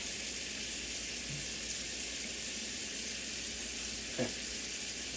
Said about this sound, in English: So y'all can hear it sizzling at me.